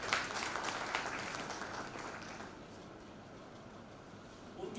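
Audience applause for the organisers at a Bazm-e-Amjid 2024 gathering in Samundri: a dense, steady crowd clapping that starts full and gradually thins over a few seconds.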